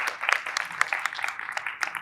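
Steady audience applause for a panelist at an arts panel, dense clapping filling the room evenly for about two seconds, moderately loud with no voices.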